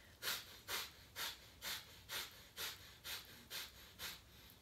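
Rapid, rhythmic breath of fire in kundalini yoga, forced sharp exhalations through the nose, about ten evenly spaced huffs in under five seconds, close and breathy with no talking.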